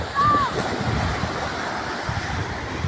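Steady rush of surf and breaking waves with wind buffeting the microphone, a brief high tone near the start.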